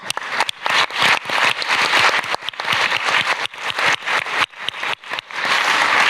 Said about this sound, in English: I think Annette deserves a big applause.